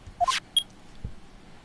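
A video game courtroom clock gives a short run of rising electronic beeps, then a higher single tone and a soft thump, set against near silence.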